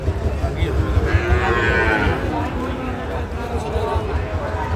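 A Sahiwal bull calf moos at a busy cattle market in Sirajganj, one drawn-out bellow rising near the microphone over steady crowd chatter and people talking nearby.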